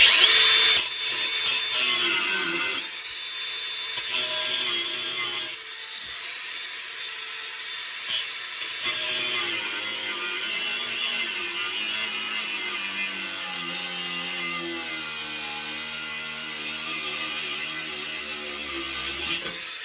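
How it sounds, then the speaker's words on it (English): An angle grinder cuts through a rusted exhaust bolt on a Land Rover Defender TD5, whining loudly and steadily with brief dips in pitch as it bites into the metal, then winding down toward the end. "I'm going to get the angle grinder and get that cut off"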